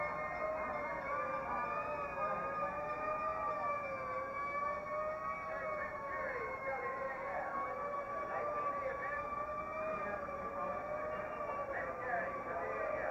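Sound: miniature fire engine siren at a rally

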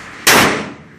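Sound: gunshot from a 1911 Colt .45 pistol

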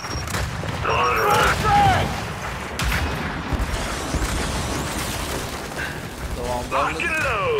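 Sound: grenade explosion and gunfire in the video game Gears 5

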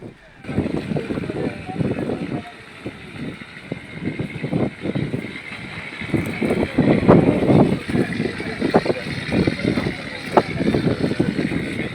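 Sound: large motorboat towing a sunken boat out of water

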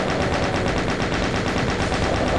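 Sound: gunfire in a video game

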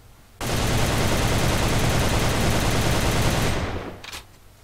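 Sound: ARX-160 rifle full-auto fire while crouching, AVA video game

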